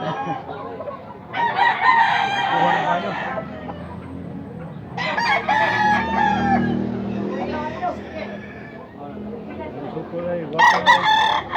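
Several roosters crow loudly in turn at a rooster sale, long strained calls close by, with clucking and a few voices murmuring between crows.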